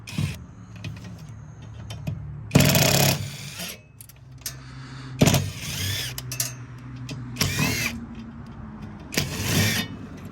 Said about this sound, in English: we're just battling our way through all of these screws